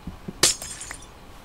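A single sharp shatter of glass breaking in the video game In the Aether 2, a bright burst with a short tinkling tail, preceded by a couple of soft clicks and otherwise quiet.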